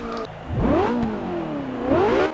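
A sports car engine in Forza Motorsport 6 revs up through rising pitch sweeps on a track, shifting and climbing again, loud and close, with no one speaking.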